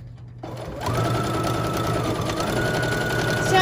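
A sewing machine stitches a fabric pot protector, its motor starting up after a brief pause and then running as a steady, close, continuous whir with rapid needle clatter.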